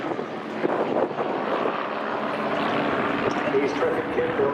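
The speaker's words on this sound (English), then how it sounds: "These terrific kit-built aircraft have got great performance, maximum speed around 230 miles an hour." Kit-built aerobatic aircraft flying a formation pass at the Southport airshow, heard as a broad, steady engine drone with wind noise, moderately distant, with a voice mixed in.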